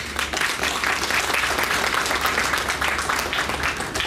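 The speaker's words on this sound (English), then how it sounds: "I think they need a clap." A crowd applauds steadily for sponsors, donors and supporters at a charity thank-you event. The clapping is dense and sustained for several seconds, moderately loud, with no speech over it.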